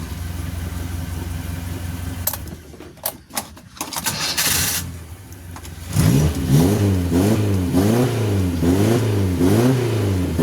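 A Suzuki Carry 1.0 engine fitted with an injection coil runs with a steady, rhythmic mechanical chug, briefly revving and sputtering before settling into an even idle.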